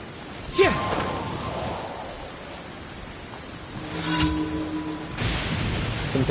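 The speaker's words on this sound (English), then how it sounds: "It always rains when I go on an adventure." Steady rain in the video game Genshin Impact, a broad continuous hiss with a few brief whooshing swells, heard fairly close and without speech.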